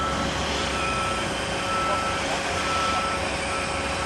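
A truck at a commercial building site backs away after delivering a panel, its reversing alarm sounding over a loud, steady engine rumble and broadband noise.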